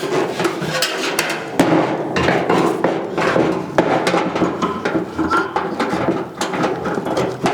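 Bolts are fastened into a body panel on a 1956 Chrysler 300 Semi Hemi pony car concept, with busy close-up ratcheting clicks, metallic clanks and knocks forming a dense mechanical clatter.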